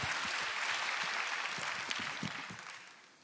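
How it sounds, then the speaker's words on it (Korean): A church congregation claps together during a Friday prayer service, a steady wash of applause with a few sharper individual claps, gradually fading near the end. "이 박수는 하나님께서 받으셔야 되고"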